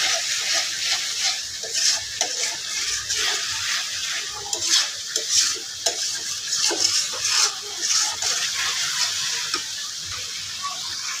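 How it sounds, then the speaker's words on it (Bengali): Spice paste frying in oil while being stirred for a vegetarian potato and soya chunk dish: a steady, continuous sizzle with scattered scraping stir strokes, close and moderately loud throughout. "মশলাটা আমি ভালো দিয়ে কষাই নিতেছি, লাল লাল করে তেল তুলে নিতেছি"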